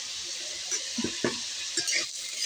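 Potato pieces sizzle in a hot pan with turmeric and salt added, a constant bright hiss broken by a few scraping stirs and light clinks of a utensil against the pan, close by and with no one speaking.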